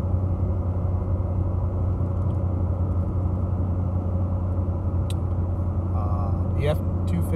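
A 2014 Ford F-150 pickup with the 3.5 EcoBoost engine towing uphill, a loud steady low engine and road rumble from inside the cab, with a few faint clicks and rattles near the end.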